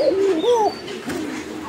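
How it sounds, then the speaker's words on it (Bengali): German Beauty Homer pigeons cooing close by, a clear rising and falling coo followed by softer throaty murmurs, with no talking. "এই যে দেখেন কবুতর।"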